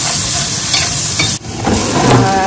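Paneer sizzles loudly in hot mustard oil, a steady close-up frying hiss with a brief dip in the middle, no talk over it.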